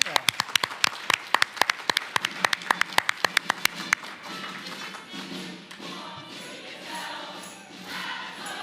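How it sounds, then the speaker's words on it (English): Applause at an education budget forum, a handful of sharp, distinct claps in quick succession that stop after about four seconds, giving way to quieter room murmur and voices. "Let's give them a round of applause."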